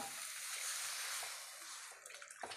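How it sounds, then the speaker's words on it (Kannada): Water is poured into a pan of spiced soybean curry in a home kitchen, giving a faint, steady hissing splash that tapers off with a few light clinks. "ಸ್ವಲ್ಪ ನೀರು ಸೇರಿಸ್ಕೊಳ್ತೇನೆ ನಾನು"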